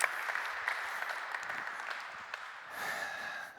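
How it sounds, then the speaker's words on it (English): Applause from an audience for young tennis players at a coaching session, a steady moderate patter of clapping hands lasting a few seconds without talk. "A little bit of applause for them because they're doing such a good job."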